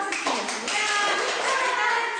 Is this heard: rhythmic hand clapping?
yes